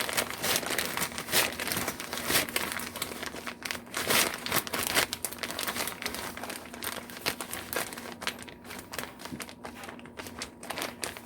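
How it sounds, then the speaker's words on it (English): A plastic bag of brown sugar is crinkled and handled up close in a kitchen, producing continuous loud rustling crackles and crunches with no talking. "The loud crinkle of my bag."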